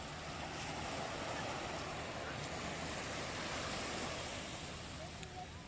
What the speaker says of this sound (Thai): นี่คือหาดในยางครับมีฝรั่งเล่นน้ำฝรั่งน้อยเล่นน้ำ